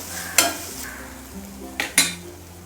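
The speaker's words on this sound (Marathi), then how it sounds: "आता आपण याच्यामध्ये फ्लेवरसाठी थोडीशी कोथिंबीर टाकायची आणि चांगली परतून घ्यायची" Coriander leaves stirred and sautéed with softened tomato in a pan for Malvani chavali ussal, giving a low steady sizzle broken by a few sharp scraping strokes of the spoon, close and alone.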